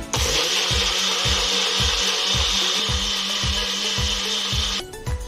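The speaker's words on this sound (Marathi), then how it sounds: "इथे मिक्सरला आपण व्यवस्थित लावून त्याला ब्लेंड करून घेऊया।" A kitchen mixer blends spiced buttermilk, a loud continuous whirring drone with a steady pulsing rhythm of repeated thumps, cutting off abruptly near the end.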